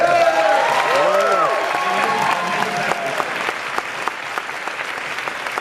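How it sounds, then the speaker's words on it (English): A round of applause from an audience for an honoured guest, steady clapping throughout with a whistle-like tonal sound layered over the start, gradually thinning toward the end. "maybe everybody give him a round of applause"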